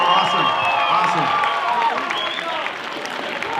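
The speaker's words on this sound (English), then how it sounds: "Give a round of applause for Michael with a B" An audience at a leadership presentation claps and cheers in a sustained round of applause for a volunteer, a dense, steady wash of hands and voices that fades slightly toward the end.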